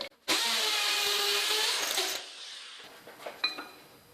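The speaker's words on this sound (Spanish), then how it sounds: "Y ahora ya percutaríamos." A hammer drill bores into a concrete wall or pillar in a sustained loud burst of about two seconds, then stops and leaves a few faint clicks and knocks.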